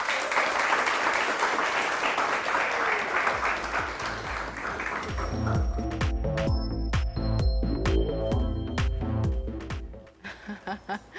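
A studio audience applauds for an artist with a dense, steady round of clapping for about five seconds. Then music with a beat takes over and the clapping fades beneath it.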